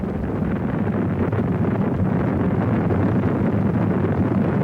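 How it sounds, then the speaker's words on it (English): Space shuttle rocket engines roar at liftoff as a dense, broadband rumble, steady and powerful from start to end with no pauses. "We have liftoff."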